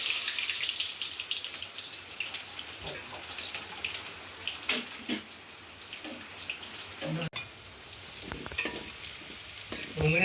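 Onions frying in hot oil in a home kitchen, a steady broadband sizzle with occasional stirring clatter and brief louder crackles, fairly close and continuous throughout.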